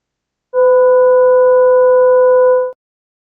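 Sonified ultrasound measurements of a rock sample after repeated salt crystallization cycles, rendered as a steady electronic tone with a few stacked harmonics that holds for about two seconds and then cuts off, alone with no voices.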